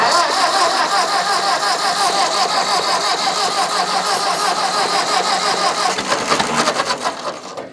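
An old Ford farm tractor engine cranks and sputters loudly, chugging steadily for several seconds before faltering and dying down at the end.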